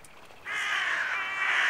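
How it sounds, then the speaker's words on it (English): Crows cawing in the video game Little Misfortune, a harsh, sustained chorus of caws that starts abruptly and keeps going loud and close, with no one talking. "It was a full-on murder of crows."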